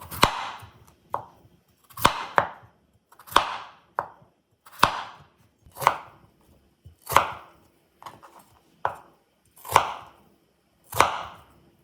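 A kitchen knife chops through large potatoes on a cutting board for Korean jajangmyeon, a steady run of about a dozen sharp, close thunks, each with a quieter follow-up tap. No voices are heard.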